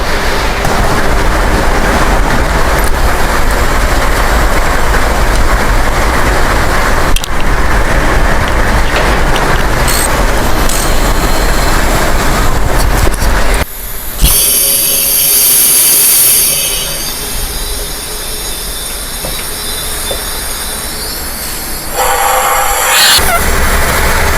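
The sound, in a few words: air leaking through BMW S1000RR engine valves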